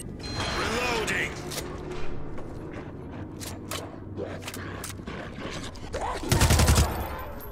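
Gun reloading in the zombie shooter World War Z, set in Moscow: clicks, ratchets and metallic mechanism sounds mixed with bursts of gunfire, with a loud burst of shots near the end.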